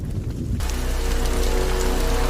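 Heavy rain pours down, its sound swelling abruptly after a brief lighter patter into a dense, steady roar of drops hitting surfaces, loud and close.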